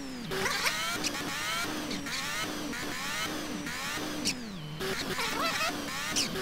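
Car pulling away in a roleplay video game, engine revving up through repeated gear-like rises in pitch, close and fairly loud, with several rising sweeps and short drops between them.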